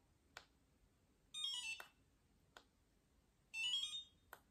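An Anlan skincare device gives two short rising electronic chirp tones as it powers on. Soft clicks fall between the tones in an otherwise quiet room.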